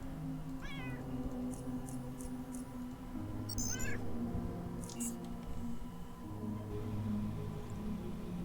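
A cat in the video game Underrail meows several times, short rising cries scattered over a steady game soundtrack hum, with a few small interface clicks and bleeps.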